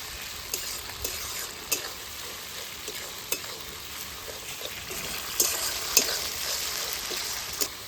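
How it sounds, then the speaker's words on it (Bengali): Spice paste of ginger, dried chilli and coriander fries quietly for chicken curry, a soft steady sizzle broken by regular light scrapes and taps as a spoon stirs it around the pan. "মশলাটা অনেকটা ভাজা হয়ে গেছে"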